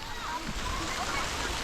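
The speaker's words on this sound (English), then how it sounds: "all these cascading waterfalls, fountains." Water splashes and rushes steadily through a series of cascading waterfalls and fountains in a garden in Srinagar, Kashmir, a close, continuous wash of spray with a voice faintly audible over it.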